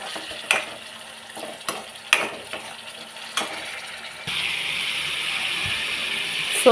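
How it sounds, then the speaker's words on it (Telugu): Sliced onions and ginger fry in a pan for a bitter gourd curry, with a low sizzle broken by several sharp spatula scrapes and taps, then a louder, steady frying hiss near the end, with no voices. "అల్లం వేసేసి ఇట్లా ఫ్రై చేసేసుకోవాలన్నమాట"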